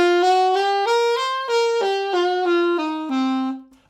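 A C blues scale, a minor pentatonic with an added flat five, played as a run of about nine sustained single notes that climbs and then descends, evenly paced, with the last note fading out. No other sound.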